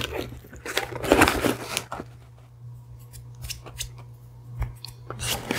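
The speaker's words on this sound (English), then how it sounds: "Old trusty letter opener, I did it every time." A letter opener slices through a wet cardboard mail box, giving several sharp, close ripping and scraping strokes with brief pauses between them, loudest early and then in short bursts.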